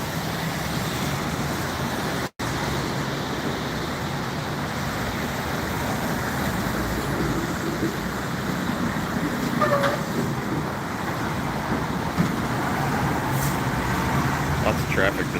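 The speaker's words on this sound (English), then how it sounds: "Lots of traffic this morning." Steady morning road traffic at Lincoln Square, a continuous broadband rumble of passing cars and heavier vehicles, fairly near and even, with one brief dropout and occasional faint distant sounds.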